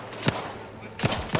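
Gunfire at a sniper in the video game Outer Worlds 2, a few quick sharp shots in a short burst, fairly close and loud against a game background.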